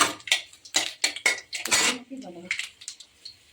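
Dried red chillies and five-spice seeds drop into a pan of hot oil for a simple vegetable curry, bringing a run of metallic clinks and clatters followed by a brief sizzle, with a voice talking between the sounds.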